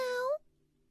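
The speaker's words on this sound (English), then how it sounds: "Meow. A sound came from Heidi's pocket." A cat lets out a single short meow, close and rising in pitch, then it cuts off to near silence.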